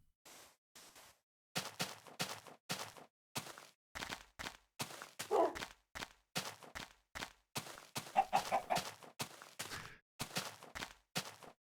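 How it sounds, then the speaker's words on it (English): A chicken sound effect plays as a rapid series of short, clipped clucking bursts, fairly loud and close, with brief gaps between them and no talking. "It will play the chicken sound."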